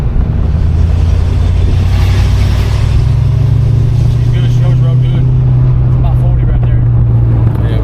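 A 1987 Ford Mustang 5.0 hums and rumbles steadily while driving on the road at around 40, a loud low engine drone with road noise that holds throughout as someone talks over it.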